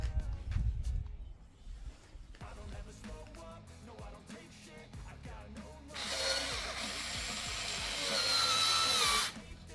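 Power drill driving a wood screw into a pre-drilled hole while building a wooden trellis planter, heard as short bursts of motor whine and then a louder sustained high-pitched run near the end, close and clear.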